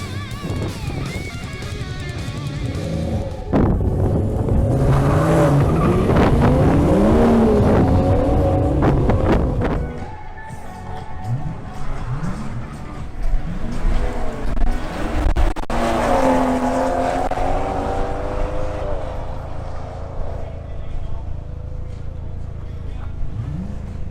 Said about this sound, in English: We start with a duel between Luis Magana's BMW M240i and Alvaro Stefanel's BMW M340i xDrive